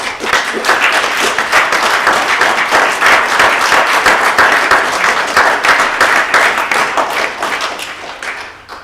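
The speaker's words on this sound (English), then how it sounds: "if we could just give Lisa a big round of applause, please" A youth project's annual meeting audience gives sustained, dense applause, many hands clapping steadily and loudly for several seconds before tapering off slightly at the end.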